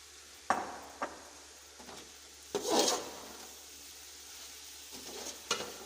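Boiled mungre and potatoes frying in a pan for a village-style aloo mungre dish, with a soft steady sizzle broken by a few scraping stirs and clinks of a utensil, fairly quiet and close.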